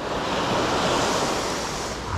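Sea surf breaking on the shore of Ise Bay during a falling tide on a fishing outing, a close, continuous rushing wash with a gentle swell in loudness and some wind buffeting, no voices.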